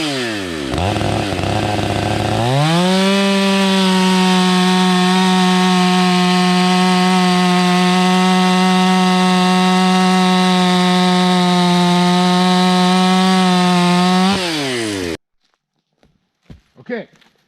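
A Stihl 500i chainsaw fitted with a Husqvarna chain makes a cut straight through a firewood log. It revs up hard, holds a loud, steady, high whine at full throttle for about twelve seconds, then drops away, leaving brief faint knocks.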